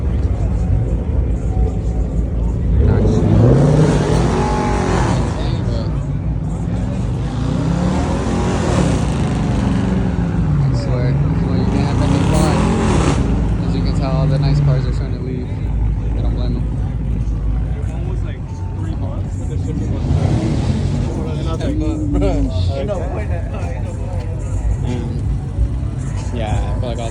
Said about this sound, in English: I feel like all the nice cars are leaving